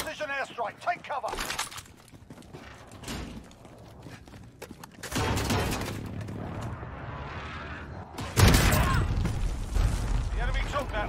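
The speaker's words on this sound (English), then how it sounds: "Enemy precision airstrike. Take cover." Bursts of explosive impacts and gunfire from an enemy precision airstrike in the Warzone video game, loud blasts around 1.5, 5 and 8.5 seconds over ongoing game noise, with voices talking throughout.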